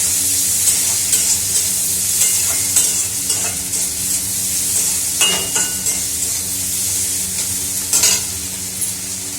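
Tomato sizzles and fries in a pan with squash, a steady loud hiss punctuated by repeated scraping stirs of a spoon against the pan.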